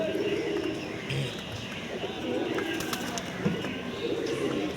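Pigeons coo and call softly while being bathed, low repeated cooing mixed with chirps and background noise, near and moderately loud across several seconds.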